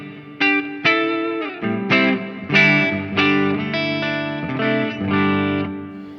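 Electric guitar chords struck in a steady sequence, each ringing out with a smooth, evenly fading linear-decay reverb tail; distorted, effects-laden tone, loud and up front.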